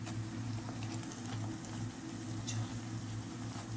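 Puri dough fries in hot oil in a home kitchen, giving off a steady soft bubbling and sizzling hiss with light patter and no voices over it.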